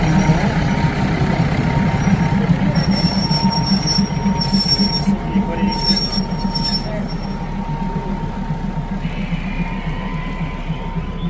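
A train rumbles steadily past close by through the Maeklong railway market in Samut Songkhram, Thailand, wheels squealing in high bursts over the heavy rolling noise, with faint voices underneath.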